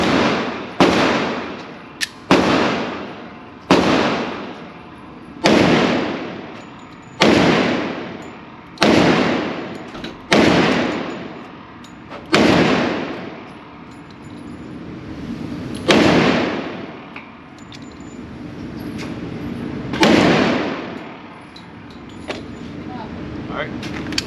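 A Smith & Wesson M&P 2.0 10mm pistol fires XTP rounds in a slow string of about ten loud, sharp shots, each followed by a ringing decay, spaced unevenly with pauses between them.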